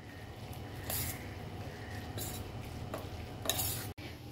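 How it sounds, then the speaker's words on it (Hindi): Matar kulche mixture with lemon juice being stirred in a bowl, repeated soft scraping and squishing strokes at an even pace, close and moderately quiet, with no talk. "एंड बस अब इसको अच्छे से मिक्स करेंगे"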